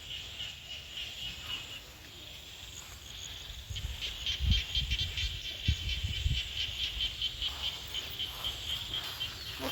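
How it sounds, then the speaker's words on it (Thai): Small frogs call outside a room after rain, a dense, steady high-pitched chorus of chirps and trills that carries on throughout, with occasional low thumps and rustles nearby and no talking. "ฟังเสียงเขียดจะหน้าห้อง"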